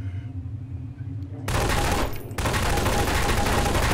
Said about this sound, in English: Where's that shooting coming from?